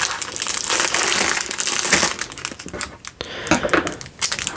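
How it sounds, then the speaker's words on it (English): Scissors snipping and crinkling through plastic toy packaging during an unboxing of fidget and enrichment toys, close and continuous with sharp crackles and rustles, pausing briefly before more intermittent crinkles. "I've got a pair of scissors, I'm just going to use the scissors."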